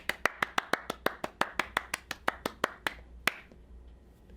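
A single person claps hands steadily about sixteen times in an even rhythm during a children's storytime song, then stops, leaving a faint room hush.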